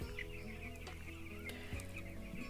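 Poultry chickens on a farm clucking softly in a busy flock, overlapping clucks and calls under a constant low hum, fairly faint and without speech.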